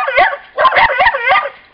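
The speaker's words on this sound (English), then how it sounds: "So when they're all out here barking" Puggle dogs let out a quick burst of several sharp, yappy barks mixed with yips, loud and close, in an irregular overlapping rhythm.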